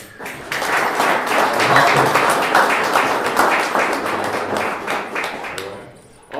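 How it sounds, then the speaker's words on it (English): An audience at an awards breakfast and panel discussion breaks into sustained applause, a broad wash of many hands swelling quickly, holding steady for several seconds, then tapering off. "Come on, clap your hands."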